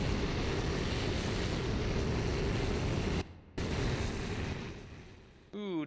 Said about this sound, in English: these rocket starts are loud